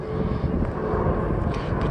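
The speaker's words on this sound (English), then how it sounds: "And you're gonna hear planes," Airplanes flying low near Ronald Reagan Airport, heard from an outdoor historic fort site as a steady loud roaring rumble that fills the whole stretch with no break.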